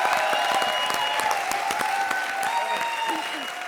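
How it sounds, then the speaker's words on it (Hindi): Loud applause from a studio audience at a televised comedy show, a thick, continuous wash of clapping with a faint murmur underneath, easing off a little toward the end. "जोरदार तालियां"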